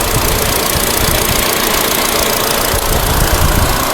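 Honda Amaze car engine running on CNG after a repair for jerking and misfiring, a loud, steady, close idle with a continuous rough mechanical drone and no speech.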